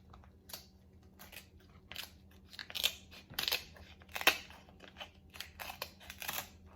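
Scissors cutting open king crab legs, a series of crisp snipping and crunching cracks at irregular intervals, close and clear over a quiet background.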